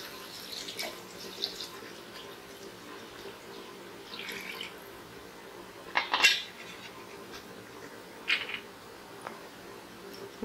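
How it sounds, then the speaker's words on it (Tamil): Water is poured into a pot of ghee rice being cooked in a home kitchen, a soft running trickle with a few clinks of utensils and pans against the vessel, fairly quiet throughout. "தேவையான அளவு தண்ணி சேர்த்துக்கலாம்."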